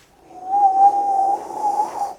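A voice imitates a man whistling on the in-breath, a steady, breathy, wheezing tone drawn in for about two seconds, close and fairly loud, with a brief dip before it resumes.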